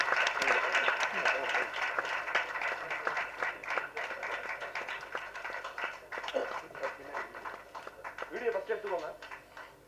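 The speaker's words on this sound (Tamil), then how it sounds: "பலத்த கரகோஷங்களுடன்" Audience applause at a film trailer launch event, a busy, sustained clapping crowd mixed with voices and chatter throughout.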